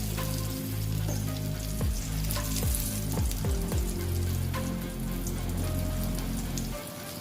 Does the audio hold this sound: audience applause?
no